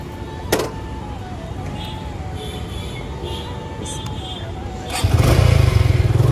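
A new black Suzuki Gixxer Monotone motorcycle engine cranks and settles into a steady close idle, with a few sharp clicks, then swells louder as it revs near the end.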